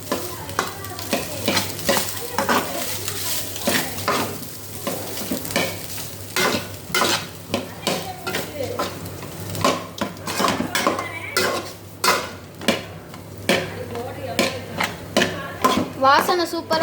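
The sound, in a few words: stirring pepper rice in a pan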